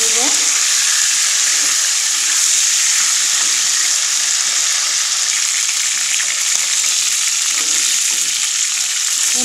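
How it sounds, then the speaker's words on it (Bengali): Broiler chicken pieces frying in a pan hiss and sizzle loudly and continuously, a close, even spitting sound with faint stirring, lasting the whole stretch. "একইভাবে এই মাংসগুলো ভেজে নিব।"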